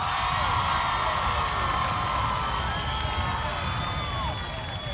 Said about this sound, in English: Please give these fine young cadets a round of applause.